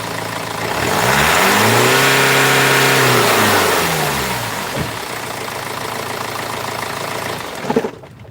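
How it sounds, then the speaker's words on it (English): BMW 320d diesel engine with a rail pressure fault revved from idle, pitch rising and holding at a loud steady rev before falling back to a close idle, with a few clunks near the end. "So what I'll do now, I'll actually rev the vehicle up"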